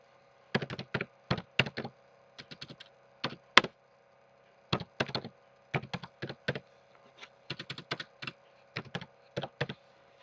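Someone types on a computer keyboard in quick bursts of close, crisp key clicks with short pauses between words, heard clearly against near silence.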